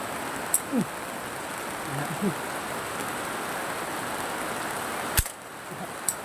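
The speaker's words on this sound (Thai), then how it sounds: "ฝนตกแล้ว" Rain falls outdoors as a steady, even hiss throughout, with a few faint knocks and one sharp snapping impact near the end.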